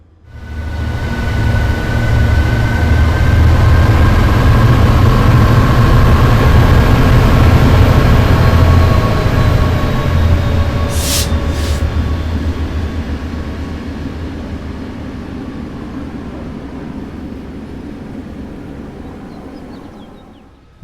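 A Metrolink F59PH diesel locomotive in Train Sim World 6 rumbles loudly and steadily with a deep engine drone and faint whining tones, a brief high horn-like burst midway, and the roar slowly easing toward the end.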